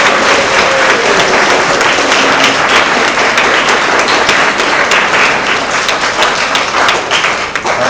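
A school award assembly audience gives loud, sustained applause for the parent and family organization, many hands clapping close and continuous with no talk over it.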